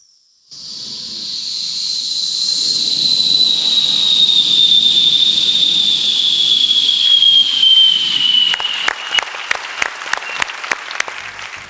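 A performer on a comedy stage show vocally imitates an airplane landing with a long, loud, steady hiss carrying a slowly descending whistle tone, ending as the audience breaks into applause.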